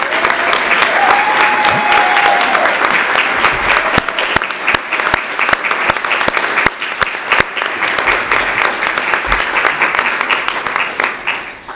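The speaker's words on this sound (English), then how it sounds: "Let's give all of our award recipients another round of applause." An audience at a youth awards ceremony gives award recipients a sustained round of applause, loud dense clapping that fills the whole stretch with a few sharper claps standing out near the end.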